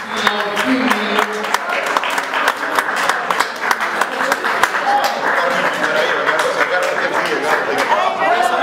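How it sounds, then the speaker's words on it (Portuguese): An audience at a darts league final prize ceremony claps for the women's runner-up, with sharp, uneven hand claps over crowd chatter and some laughter, close and loud throughout. "Salve palmas, vice-campeã final feminino."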